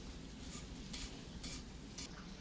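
Chopped onion is stirred into a frying vegetable dish of shrimp, eggplant and taro stems. Soft rhythmic scrapes of a spoon sound over a low, faint sizzle, with no talk.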